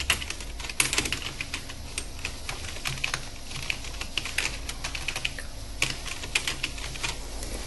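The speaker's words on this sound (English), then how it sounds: "You have to key in your point here for add questions and key in your content here." Quiet, steady typing on a computer keyboard, rapid irregular key clicks continuing throughout at close range with no talking.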